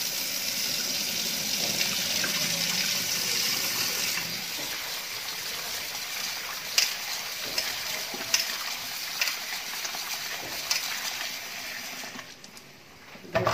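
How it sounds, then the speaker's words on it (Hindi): Bitter gourd being washed by hand under running water, a steady gushing splash over the first half, then quieter water with scattered knocks and sloshes as the pieces are handled. "इस तरह धोते रहें, दो तीन पानी से धोते रहें।"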